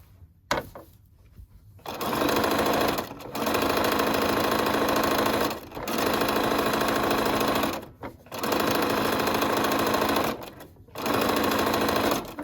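A sewing machine stitches the seam of a McCall's 8358 wrap dress in four long, steady whirring runs, separated by short pauses and stops, loud and close with no talking.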